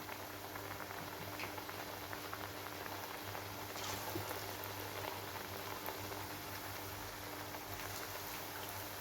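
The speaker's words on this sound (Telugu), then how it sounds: "నేను ఆయిల్లో వేసేసుకుంటున్నాను." Chekka vadalu, Andhra rice-flour crackers, sizzle in hot oil in a home kitchen, a steady crackling bubble like light rain, continuous and close.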